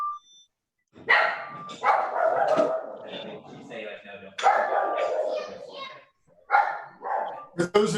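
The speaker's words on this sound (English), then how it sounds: "we got a barking dog" A dog barks in a few sharp bursts amid a remote meeting, mixed with overlapping voices and a child-like voice, moderately loud and close.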